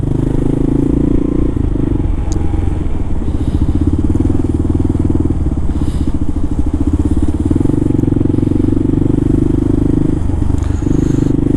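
Kawasaki KLR motorcycle lane splitting in traffic near a parking lot, its steady single-cylinder engine drone loud and continuous, with wind rush and a few faint clatters from passing vehicles.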